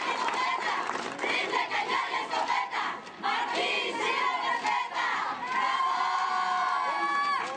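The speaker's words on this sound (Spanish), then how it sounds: "quienes también se acercaron al centro de la plaza para externarle su apoyo, al gritar efusivamente" A crowd gathered in the center of a plaza cheers and shouts support at a local political gathering, a dense, continuous wall of excited voices and whoops with no lull.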